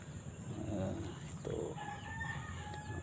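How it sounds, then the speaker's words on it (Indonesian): A rooster crows at a farm where many chickens are kept, one drawn-out call rising over a steady background hum, fairly close and clear with no talk. "di Padepokan juga banyak ayam ya, sengaja ya"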